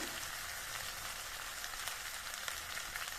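Jackfruit curry with salt, Kashmiri red chilli powder and spices frying in a pan, a steady, even crackling sizzle like light rain, moderately quiet and unbroken, with no one speaking.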